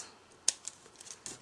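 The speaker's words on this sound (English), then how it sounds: "Then you're just going to snip the ends" A few quick crisp snips of scissors trimming the ribbon ends of a handmade bow, close and light, one sharper cut followed by softer ones.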